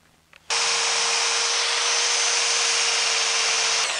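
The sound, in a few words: sanding a wooden bowl with coarse 60 grit sandpaper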